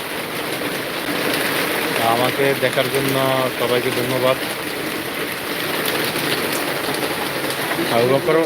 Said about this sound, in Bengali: এখন এই মুহূর্তে বৃষ্টি আপনাদেরকে দেখাতে চেষ্টা করতেছি